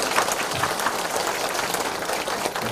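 A church congregation claps in thanks to God at a founding and pastor installation service, a loud, dense burst of many hands applauding that fills the room steadily throughout.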